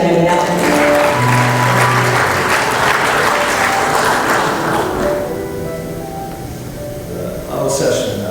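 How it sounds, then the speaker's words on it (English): A forum audience gives a big round of applause to welcome a session chair, loud sustained clapping that fades after about five seconds, with a voice speaking over part of it. "Big round of applause."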